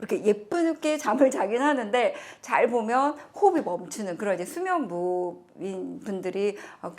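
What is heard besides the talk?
No distinct noise like a dog, phone or traffic.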